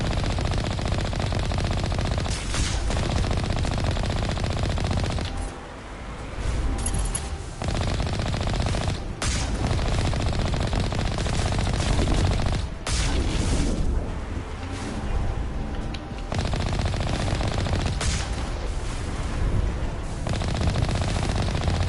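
Sustained enemy gunfire in the Mass Effect Legendary Edition video game, dense bursts of automatic weapon fire and sharp shots coming steadily over about twenty seconds, with brief lulls between volleys.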